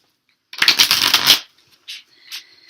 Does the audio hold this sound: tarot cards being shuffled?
yes